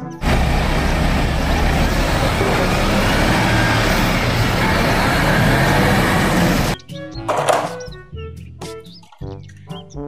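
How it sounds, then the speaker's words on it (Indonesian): Concrete mixer truck sounding as a loud, steady broadband engine rumble for most of the clip, then cutting off abruptly to give way to other mixed sounds with a speaking voice. "Mobil truk molen."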